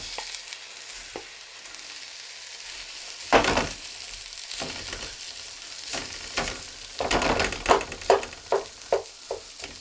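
Cantonese-style stir-fried rice tossed in a hot pan, with a steady sizzle broken by bursts of scraping and stirring that grow into a quick run of rhythmic clanks and hisses toward the end, with no talk.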